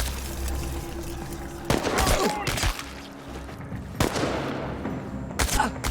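Gunfire in Chernobylite, several sharp shots and short bursts spaced a couple of seconds apart over a steady background ambience, moderately loud.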